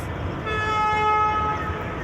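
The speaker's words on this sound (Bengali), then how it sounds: "একটি লোকোমোটিভ আসতেছে" A locomotive horn sounds one sustained tone over the engine's rumble, heard at moderate distance amid platform background noise at Dhaka's Kamalapur station.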